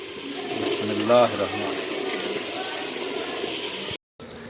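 Water is poured into a cooking pot of finely chopped potatoes, a steady splashing fill that runs for a few seconds, with a brief clink partway through and a moment of silence near the end.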